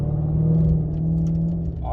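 A Genesis 5.0 engine with an aftermarket throttle pedal controller hums steadily in sport mode at about 2,000 RPM, a low continuous drone with a slight swell, heard from inside the car.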